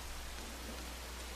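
Heavy rain pours down in the game Rain, a dense, even wash of steady noise with a low hum beneath, continuous and moderately quiet.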